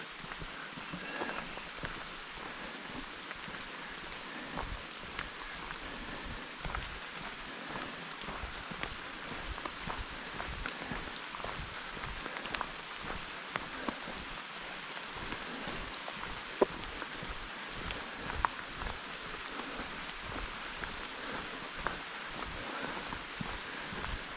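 Steady rain patters continuously on surfaces and foliage along the Appalachian Trail, a dense hiss with scattered louder drops, no voices.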